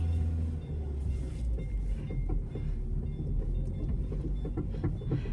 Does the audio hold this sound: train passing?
yes